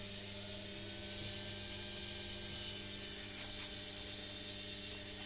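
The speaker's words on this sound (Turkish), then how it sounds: "Motorun sesinden de görüyorsunuz." A high-speed motor running on AC/DC voltage gives off a faint, steady electrical hum and whine that holds evenly for several seconds, with no voices.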